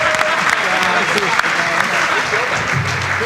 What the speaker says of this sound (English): Let's give these fishbowl contestants a round of applause.